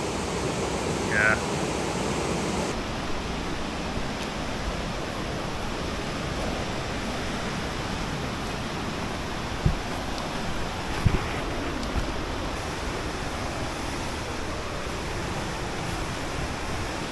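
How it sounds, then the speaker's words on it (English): A rushing river runs beside a washed-out trekking path on the Salkantay trek in Peru, making a steady, loud broadband roar that fills the whole stretch with a few faint knocks. "There's nothing to stop you falling into the river."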